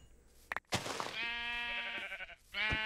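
Sheep bleating in the Minecraft video game, a couple of loud, drawn-out harmonic bleats close up, with a brief thump just before the first and a second bleat starting near the end.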